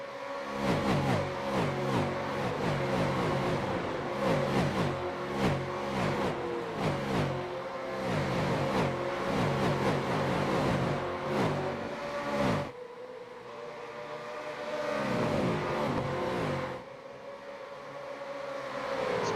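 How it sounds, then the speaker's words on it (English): V8 Supercars race past at Kentucky Speedway, a loud continuous stream of screaming engines with rising and falling passes, then a quieter lull before more cars roar by. "Fantastic angle here as you get to watch the cars go screaming past."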